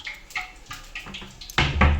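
Water is poured into a rice flour mixture with turmeric and salt, giving soft splashy trickles close by, ending in a louder, fuller pour.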